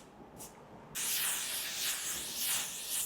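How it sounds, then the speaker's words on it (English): After a brief quiet moment, an aerosol can of makeup setting spray releases a sustained, bright hissing mist that fills roughly two seconds at close range. "It is an aerosol spray, but it does leave like a very fine mist."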